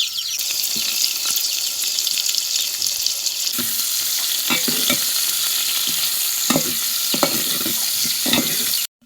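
Sliced onions and a sprig of curry leaves fry in a hot pan, with a steady loud sizzle, a sharper burst as the leaves go in, and intermittent stirring scrapes throughout.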